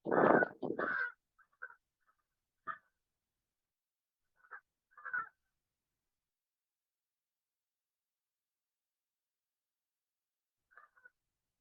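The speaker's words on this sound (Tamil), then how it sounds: "இப்ப இந்த காக்கா கத்திட்டே இருக்குது பாருங்க" A crow caws outdoors in a loud, close burst of harsh calls at the start. Fainter single caws follow with pauses between them, and one last call comes after a long silence.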